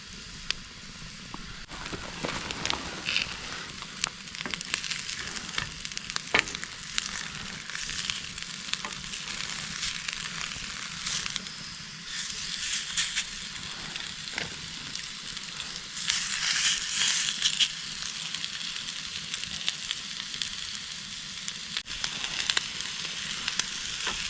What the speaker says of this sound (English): So I got my hash browns cooking right now.